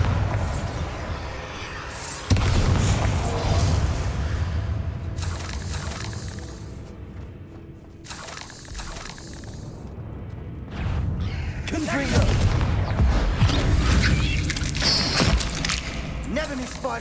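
A Bombarda blasting spell goes off in the Hogwarts Legacy video game, with loud booming bursts and crumbling debris rising out of a dense game soundscape while voices speak over it.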